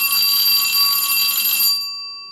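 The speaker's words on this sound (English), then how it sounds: "let's ring the bell" A single bell rings out to introduce a podcast guest, bright and metallic with a clear ringing tone that decays away after about two seconds, close and alone with no talking.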